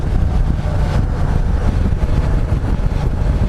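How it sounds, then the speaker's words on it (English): A Ducati Multistrada 1200S motorcycle engine rumbles low while riding, mostly buried under loud, constant wind buffeting on the microphone. No talking is heard. "I know you guys can hear this thing downshifting."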